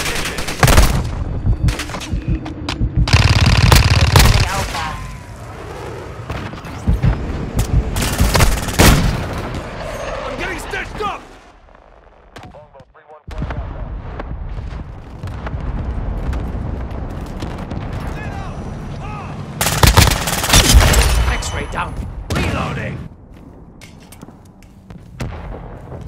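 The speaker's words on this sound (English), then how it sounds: "Hostile mortar strike in the area." Mortar strikes and gunfire in the video game Call of Duty: Modern Warfare II, with loud booming blasts and bursts of shots coming in waves, a quieter lull in the middle, then another heavy explosion.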